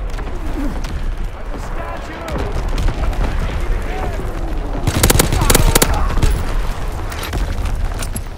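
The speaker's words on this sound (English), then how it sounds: "Incoming enemy artillery! Get to cover!" Incoming artillery fire in the World War II shooter game Call of Duty: WWII, a dense battlefield din of rapid gunfire and heavy booms that swells into a loud burst of blasts midway, with shouting over the fighting.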